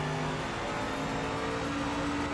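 Engines of GT4 race cars in the racing game Project Motor Racing drone steadily with sustained tonal whine, a close, continuous mechanical roar that holds at an even pitch without voices.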